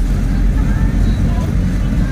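Heavy road traffic near Bueno Bridge gives a constant low engine rumble from nearby vehicles, steady and close, with a voice partly audible over it.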